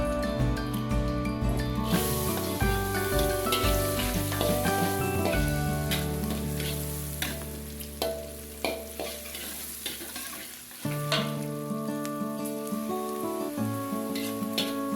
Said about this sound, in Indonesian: Lanjut goreng ya.